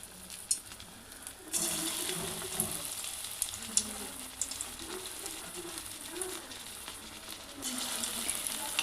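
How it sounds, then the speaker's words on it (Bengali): Puffed rice pakoras drop into hot oil and fry with a steady, close sizzle and crackle that rises after a quiet first second and carries on evenly, with no one speaking. "তো গরম হয়ে যাওয়ার পর আমি প্রত্যেকটা এই যে ছোট ছোট করে পকোড়ার আকারে ছেড়ে দেবো"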